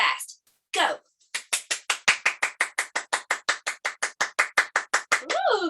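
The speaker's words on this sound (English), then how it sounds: "We're going to clap really fast." Children clap their hands as fast as they can in a classroom game, producing a quick, even run of sharp claps after a couple of short voices, the pace holding steady for several seconds.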